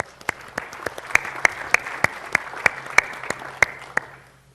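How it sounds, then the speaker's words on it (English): Sparse applause from a conference audience at a technology event, a dozen or so distinct sharp claps spaced out over a soft background of lighter clapping that fades away at the end. "let's have a round of applause for these apps"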